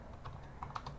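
Keys clatter on a computer keyboard in short, uneven taps, several quick strokes clustering near the end, close and fairly quiet with no talking.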